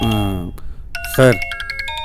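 A phone rings in a repeating electronic ding-dong tone, loud and close, after a voice speaks briefly at the start; the chime pattern repeats steadily to the end.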